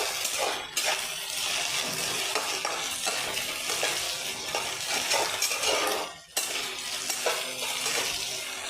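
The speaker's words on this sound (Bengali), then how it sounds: "আদা রসুনের পেস্ট দিয়ে দিলাম, একটু ভেজে নেব, ভালো করে ভেজে নেব" Ginger garlic paste fries in a pan, a continuous loud sizzle broken by frequent scraping and stirring with a utensil, with one brief pause before the hiss resumes.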